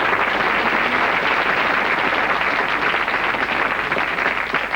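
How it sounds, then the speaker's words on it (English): Sustained applause from a TV game show studio audience on the Bullseye set, dense and steady throughout, loud and close with no pause. "Give them a round of applause."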